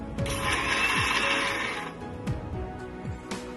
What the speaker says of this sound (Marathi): त्यात कोथिंबीर व पाणी घालून मिक्सरला बारीक वाटून घ्यायचं